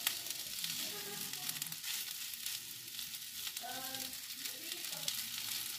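Aloo samosa filling with spices and extra chili fries in a hot pan, giving a steady, close sizzling hiss with soft scraping and stirring throughout, without speech.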